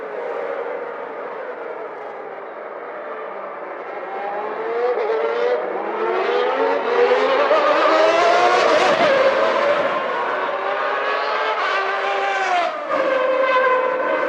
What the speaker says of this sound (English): so you see Jean Alesi going through and over the gravel trap at the Rettifilio, creating an enormous cloud of dust